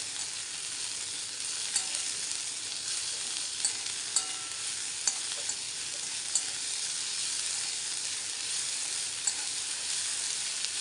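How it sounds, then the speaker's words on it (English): Moringa leaves and red chowli sauté in a pan with hing, salt and turmeric, a steady close sizzle with faint regular clicks of stirring and no talk. "Now saute this well."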